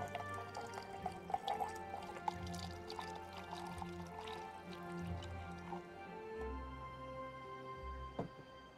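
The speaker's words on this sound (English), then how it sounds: "Time for some coffee pour ASMR." Coffee pours in a steady, faint liquid trickle with soft drips, alone and close.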